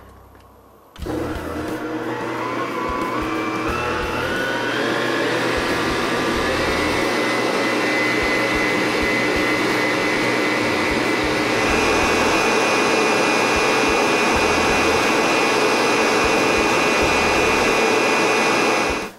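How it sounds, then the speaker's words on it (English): Cuisinart electric mixer whipping organic cream into stiff peaks in a bowl, a loud steady motor whine that starts abruptly after a second of quiet and runs continuously, rising slightly in pitch. "This Cuisinart mixer's got a lot of horsepower, and we've whipped this cream up nice and stiff"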